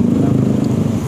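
A Yamaha MX King motorcycle with a newly fitted exhaust idles and blips with a loud, close, throbbing engine note, heard in one short burst.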